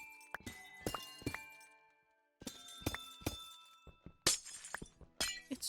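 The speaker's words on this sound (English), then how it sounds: "I like the sound of breaking glass in Minecraft" Glass blocks shattering in Minecraft, a run of crisp breaking and clinking bursts in quick succession with a short pause between groups, loud and close, no talking.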